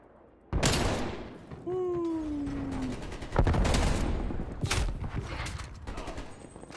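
Rapid bursts of AK rifle gunfire in Call of Duty: Cold War, played on PlayStation 5, with dense volleys and a sharp boom partway through, loud and close, a short tonal sweep in the middle, and no talk over it.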